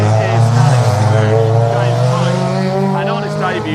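Fiesta Junior Championship race cars moving off on a formation lap behind the safety car, engines droning loudly with shifting pitch as they pass, while a commentator talks over them.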